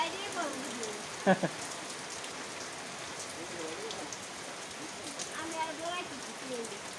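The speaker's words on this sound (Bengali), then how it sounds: "এখন কমে গেছে এই যে বৃষ্টি পড়ছে" Steady rain patters on surfaces throughout, with faint voices murmuring in the background and a short knock partway through.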